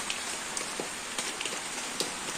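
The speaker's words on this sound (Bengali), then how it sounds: "এই বৃষ্টি যে শুরু হয়েছে, এই বৃষ্টি কিন্তু থামার আর নাম লক্ষণ মানে নাম টাম নাই, চলছে একাধারে" Continuous soft hiss of rain with scattered sharper drips and taps on nearby surfaces, fairly quiet and steady.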